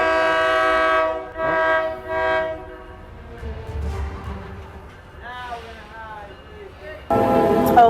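A train horn blares in several long, loud blasts up close, then fades as the train's rumble and wheel noise pass by, with another loud burst of noise at the end.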